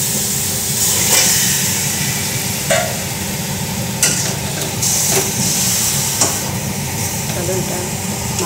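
Marinated chicken for chicken kasha hitting a hot pan, a loud continuous sizzle with occasional stirring clatters.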